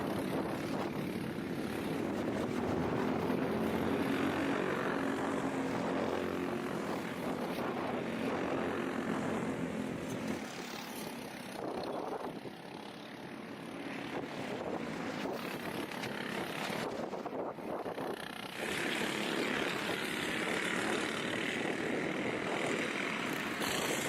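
Mini shifter racing kart engines drone continuously at a kart track during an early heat race, a loud, buzzing roar that swells and dips slightly as the karts pass, with wind buffeting the microphone.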